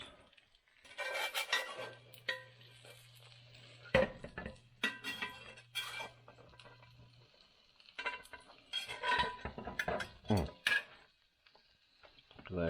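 A pan pulled out of an oven by a towel-wrapped handle, giving intermittent metallic scrapes and clanks, close and moderately loud, with a steady low hum beneath and a voice talking between the sounds.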